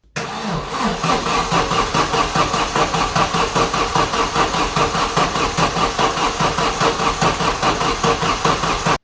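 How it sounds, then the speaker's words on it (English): A 1994 Vauxhall Astra GSi engine with a sensor fault cranks steadily for about nine seconds without firing, a loud, even starter-motor rhythm repeating close by, with no voices. "As you could see there, it cranks over, but nothing happens."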